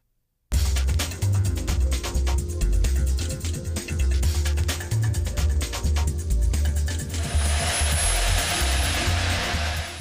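A steady, loud helicopter engine drone with rapid low rotor pulsing runs throughout, close by on a landing zone, with a shift to a brighter whine near the end.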